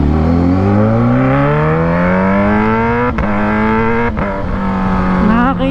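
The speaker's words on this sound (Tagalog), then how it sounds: "Kahit na bahagya ko lang siyang igas sa fifth gear, talagang may epekto sa tambucho." A Kawasaki ZH2 motorcycle with a full titanium exhaust revs and climbs steadily in pitch with a loud, raspy exhaust note, briefly dipping between gears before pulling higher again.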